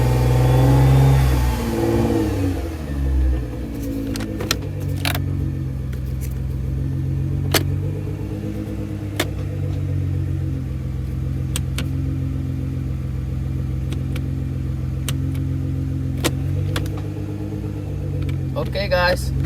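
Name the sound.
car engine running and revving during transmission refill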